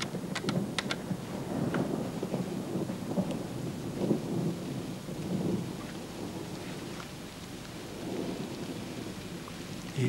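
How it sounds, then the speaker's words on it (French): Thunderstorm with steady rain pattering on surfaces, low rolling thunder rumbling throughout, and a few sharp cracks early on, heard at moderate distance without voices. "Il pleut, il mouille"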